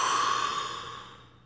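A deep diaphragmatic breath fully exhaled, one long breathy sigh heard up close that fades away over about a second and a half.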